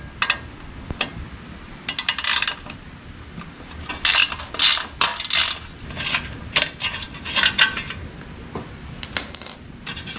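Ratchet clicking in short bursts while loosening the bottom bolts on the rear fender of a rusted, bent vintage mini dirt bike, with metallic ticks and pauses between strokes, close and fairly loud.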